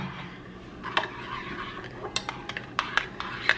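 Spicy garlic noodles with shrimp being mixed in a pan, with soft wet squishing and a series of light, sharp metallic utensil clinks that grow more frequent toward the end.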